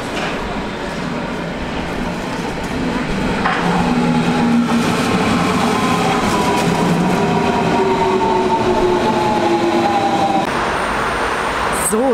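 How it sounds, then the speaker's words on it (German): An S-Bahn commuter train in Berlin, heading to the trade fair grounds, gives a loud, steady rumble and rolling rail noise heard from inside, continuous throughout with a faint squeal near the end. "Und dann geht's weiter zum Messegelände mit der S-Bahn."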